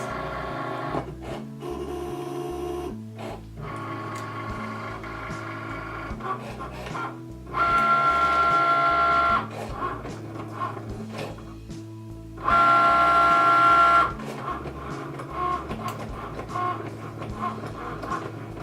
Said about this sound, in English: it will cut out the design for me on my Cricut